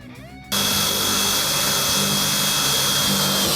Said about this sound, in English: this is where you're going to use the 1/8 inch bit to be able to drill for the other screw holes